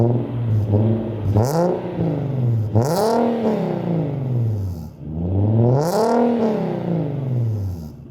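An Audi A6 engine revs repeatedly through a new aftermarket exhaust, rising and falling in strong sweeps with a deep, resonant tone, close and loud with no talk.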